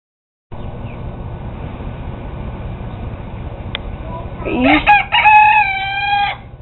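A rooster crows loudly and close by near the end, a harmonic rising-then-held call over a steady background hiss and rumble outdoors.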